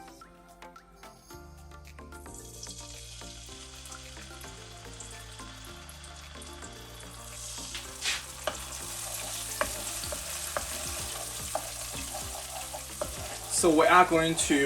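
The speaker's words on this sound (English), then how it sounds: "Then I'm gonna add in 2 tablespoons of nasi goreng paste." Nasi goreng paste sizzles steadily in a pan over low heat while being made into Malaysian fried rice, a continuous close frying hiss that grows louder toward the end, with a person briefly speaking over it.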